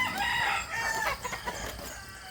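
Red junglefowl (labuyo) rooster kept as a hunting decoy crowing close by, a single drawn-out cock-a-doodle-doo followed by a few softer clucking notes.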